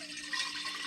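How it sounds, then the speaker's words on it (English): Coffee poured from one container into another, a short soft splashing trickle of liquid heard close and quiet. "I'm going to transfer the coffee into another container and then pour it back"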